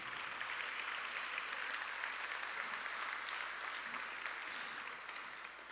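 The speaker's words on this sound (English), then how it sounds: "Let's again give them a round of applause," Steady, dense applause from an audience at the Austin Child Guidance Center's Austin Originals benefit concert, sustained and even throughout before easing slightly at the end.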